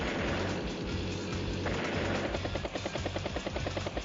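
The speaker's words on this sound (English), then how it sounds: "Does go another bomber." Bomber aircraft unit in the video game Advance Wars: Days of Ruin: a steady, loud droning engine hum with a rapid rhythmic beating that runs the whole time.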